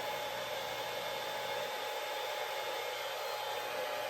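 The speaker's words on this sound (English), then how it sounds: "when I turned this hairdryer on" A handheld hairdryer runs steadily in a craft workspace while a painted wooden sign is being made, giving a constant airy whir at moderate volume with no pauses.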